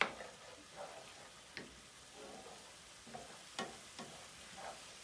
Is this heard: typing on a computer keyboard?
no